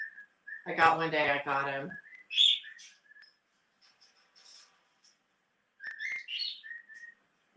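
A pet cockatiel whistles bright, chirpy phrases of a tune in short bursts separated by pauses, with a person's voice speaking briefly near the start.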